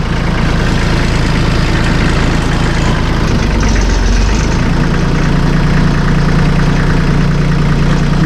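Massey Ferguson 1M.25 hydrostatic compact tractor with a 24.8 hp engine idling steadily while the loader cycles, a loud continuous diesel rumble with a slight shift in tone midway.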